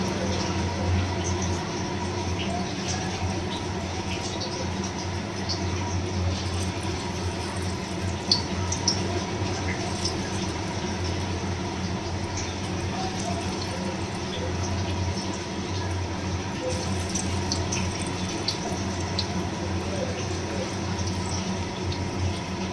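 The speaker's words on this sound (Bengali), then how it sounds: "ডালটা মাখা হয়ে গেছে, এবার আমি বড়াটা আস্তে আস্তে করে ছেড়ে দিচ্ছি।" Lentil fritters (bora) frying in hot oil in a wok, a steady, moderately quiet sizzling hiss with a low hum beneath, continuous and even throughout with no talk.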